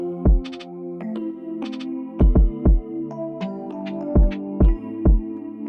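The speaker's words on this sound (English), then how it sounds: "So that piano sample sounds like this." Sampled piano chords treated with overdrive and reverb, sustained harmonic tones struck in a slow groove with repeated deep low thumps layered underneath, moderately loud with no voices.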